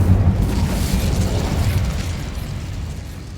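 The Incendio fire spell is cast in Hogwarts Legacy, making a loud, close burst of roaring flame that fades gradually over about three seconds.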